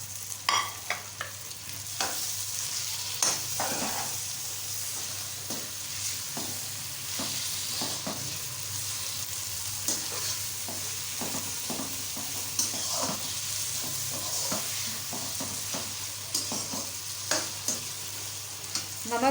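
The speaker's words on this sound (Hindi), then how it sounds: "टमाटरों के साथ ज़रा भुनाई करें इसकी" Garlic, ginger, onion and tomatoes fry in a pan while a spatula stirs them, a continuous close sizzle broken by frequent sharp scrapes and taps at an uneven pace, with no talking.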